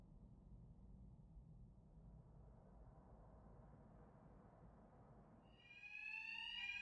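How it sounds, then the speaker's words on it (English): An alarm in the Batman Arkham Knight video game swells in late, a loud repeating electronic siren tone over a steady low rumble of game ambience, with no voices. "Two-Face's thugs won't hear me over the alarm."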